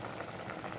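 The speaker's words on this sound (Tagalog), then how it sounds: "Ayan, kumukulo na guys" Fish stew bubbles in a pot, a dense, continuous simmering burble heard close up for under a second.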